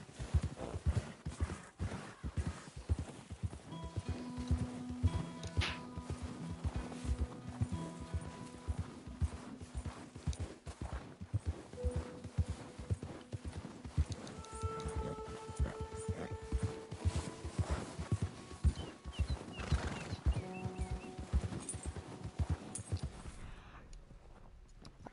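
Horse hooves clip-clop steadily in Red Dead Redemption 2, a continuous rhythmic gallop close by with an occasional whinny and faint background game sounds, no talk over it.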